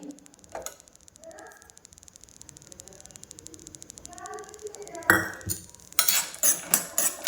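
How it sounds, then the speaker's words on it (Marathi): Peanuts dry-roasting in a small wok rattle and scrape, light ticking clatters growing into louder, rhythmic stirring scrapes, with faint background hum. "ह्या छोट्या कढईमध्ये मी शेंगदाणे भाजून घेत आहे."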